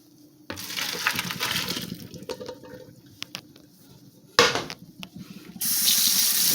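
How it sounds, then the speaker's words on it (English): Cold tap water runs into a sink over cooked fettuccine in a strainer, a steady close splashing stream with brief interruptions and clatter, then a stronger full flow at the end. "we're going to put it in this strainer right here and drain it, and then we're going to run some cold water on it to stop the cooking"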